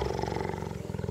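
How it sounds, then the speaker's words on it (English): A cheetah purrs in a low, continuous, vibrating rumble with a rapid pulsing texture, close and steady throughout. "Purring is one of the sounds that cats make for communication. It is a low, continuous,"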